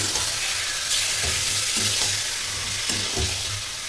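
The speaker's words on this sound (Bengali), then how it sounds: "চিকেনটাকে দিয়ে এবার ভালো করে একটু কষবো।" Chicken frying in a pan for kaju chicken, a constant close sizzle punctuated by several rhythmic scraping stirs as the pieces are turned over.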